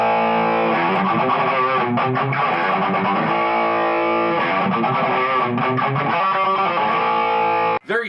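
An electric guitar plays through a Hotone Purple Wind 5-watt solid-state palm-sized amp head with the distortion cranked, giving a thick saturated chordal riff that rings continuously before cutting off abruptly at the end.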